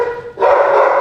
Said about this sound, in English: So pardon my dog here.